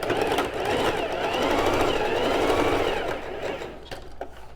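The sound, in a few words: sewing machine stitching a skirt seam corner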